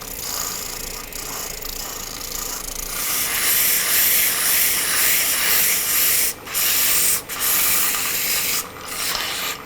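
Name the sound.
sandpaper sanding a wooden baby rattle on a lathe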